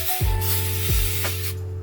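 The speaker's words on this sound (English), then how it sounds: "You don't have to spray that much." Adhesive remover sprays from an aerosol can in two or three short hissing bursts inside an E92 M3 stripped of its carpet and sound deadening, close and clear.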